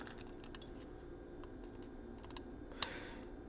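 Component legs are snipped on a DSO138mini oscilloscope kit circuit board: faint scattered small clicks, then one sharper, louder snip near the end.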